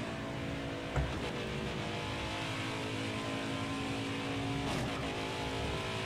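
A race car engine in a video game roars steadily at high revs, with a sharp knock about a second in and a short rev swell later, loud and continuous without speech.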